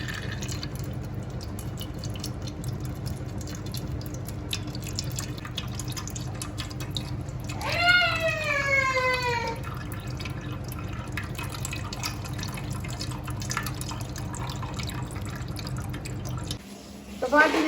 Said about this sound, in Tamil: இப்போ நாங்கள் புளியை வந்து வடித்து பானைக்காய் விட்டு கொள்கிறோம்.